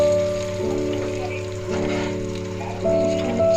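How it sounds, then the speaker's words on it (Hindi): Onion and masala frying in hot oil in a pressure cooker, a steady close sizzle with a constant hum running underneath. "हमारा तेल गरम हो गया है, अब हम इसमें ये मसाला डाल देंगे। मैं प्याज डालेंगे"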